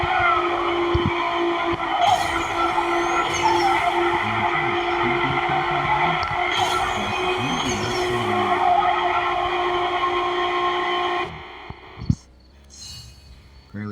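A car drifts in the Need for Speed No Limits racing game, its engine holding a steady loud whine with tire screeches layered on top for about eleven seconds before it cuts off abruptly.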